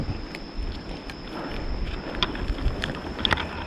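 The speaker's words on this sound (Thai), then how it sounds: "ลมแรงนี่อันตรายเพื่อนๆ" Strong, gusty wind rushes steadily through a tree outdoors, a continuous roar with scattered ticks and knocks.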